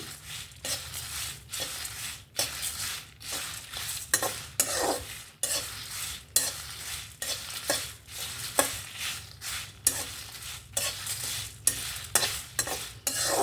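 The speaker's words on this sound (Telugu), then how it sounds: "అలా చేయలేదు కాబట్టి ఊరికే ఉత్తి మూకుట్లో వేగిస్తున్నానండి" Dry ingredients being stirred and tossed in an empty pan, a steady scraping rattle with rhythmic strokes of a spatula, close by, with no voices.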